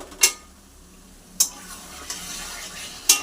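Spice paste for a mutton curry sautés in a pan, giving a low sizzle punctuated by three sharp spatula scrapes against the metal, spaced about a second apart.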